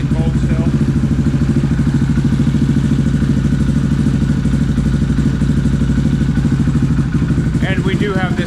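A KTM engine fitted into a Honda TRX450R ATV, strapped to a stand with a cold radiator, idles in a loud, steady, close drone throughout, and a voice briefly speaks near the end.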